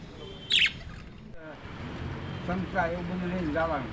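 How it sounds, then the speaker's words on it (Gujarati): Many colourful budgerigars in a village setting give quick, bright chirps, one sharp close burst early and softer repeated chirps later, over steady background noise while people talk. "અહીંયા બજરી પોપટ 1 નંબર છે"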